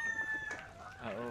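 Chickens on a Cebu farm, with a rooster crowing clearly up close over soft clucking and faint background talk in a short burst.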